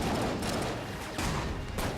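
Rapid gunfire from a strong gun in the bullet-hell game Enter the Gungeon, dense and continuous crackling bursts, loud, with no talk.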